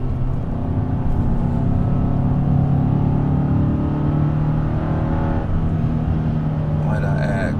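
A 2024 Subaru WRX TR drives along with a continuous, loud engine and road drone heard from inside the cabin, rising slightly in pitch, while someone talks over it.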